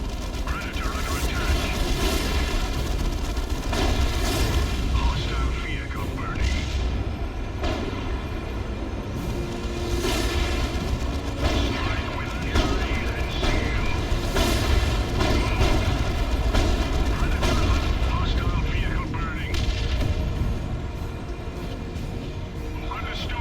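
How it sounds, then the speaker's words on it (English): Lascannon fire and explosions from a Predator tank battle in the Warhammer 40k strategy game Dawn of War II: Chaos Rising form a dense, continuous roar of booms and blasts with rumbling low end and no pauses. "Use your las cannon to cut them apart."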